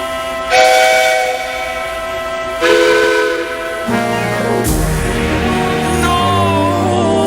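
A train conductor's whistle blows loudly in long sustained tones, shifting pitch between blasts and layered with mechanical rumble, close and strong throughout.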